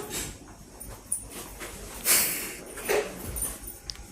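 Close dog sounds: snorts, sniffing breaths and a brief whimper, in short irregular bursts.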